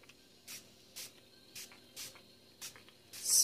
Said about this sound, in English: spray it around there